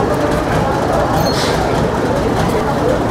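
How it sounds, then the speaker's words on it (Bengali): The Maa Tara Express pulls into Sainthia Junction with a steady, loud rumble of rolling rail cars that holds level throughout, with voices partly mixed in. "ট্রেন একদম রাইট টাইমেই এসে পৌঁছলো।"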